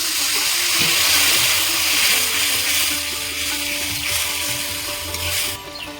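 Water pours into a pan of spiced katla fish curry with potatoes, a bright rushing splash over a low simmering sizzle that eases off toward the end.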